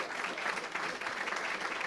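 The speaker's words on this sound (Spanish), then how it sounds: "Vamos a darle un aplauso a Josué" Applause for Josué at a presentation in a café, a brief even patter of many hands clapping, fairly faint and steady throughout.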